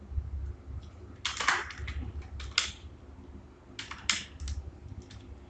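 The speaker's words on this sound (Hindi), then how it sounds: "तो चलो टाइप करके देखते हैं दोस्तों इसमें कि किस तरह टाइप होता है।" Clicky keystrokes on a computer keyboard, typed in two short clustered bursts with a pause between, close and crisp over a quiet background.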